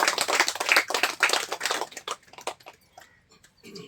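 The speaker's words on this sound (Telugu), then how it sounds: "ఒకసారి మనందరికీ మనం గట్టిగా చప్పట్లు కొట్టుకుందాం" Audience at a gathering in Draksharamam applauds loudly with dense, steady clapping that fades toward the end.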